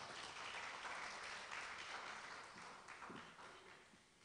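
Sustained applause from an audience at a live cultural event welcoming a guest speaker, even and moderately distant, thinning slightly toward the end.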